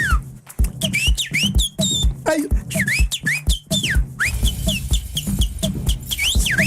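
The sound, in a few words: whistle blown over a DJ beat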